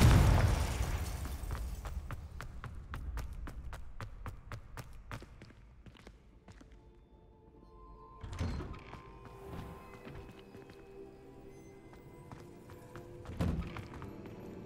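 A Confringo fire spell blasts in Hogwarts Legacy, opening with a loud burst and rapid crackling pops that taper off, followed by quieter whooshes and a second thump later on.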